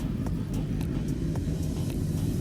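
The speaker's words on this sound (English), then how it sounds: "22 riders made their way out of pit lane for the final time of asking for qualifying" Race motorcycles from the ZX10 Masters Cup field rumble out of pit lane at Zwartkops Raceway, a steady low engine drone with no talk.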